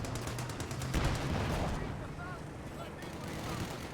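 An MG42 machine gun in a video game fires a rapid rattling burst that fades into the battle, heard under continuous commentary.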